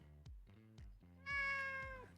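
A domestic cat gives a few short, quiet meows followed by one longer drawn-out meow, close by with no other sounds.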